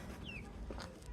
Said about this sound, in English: we have 6 of these Rhode Island Reds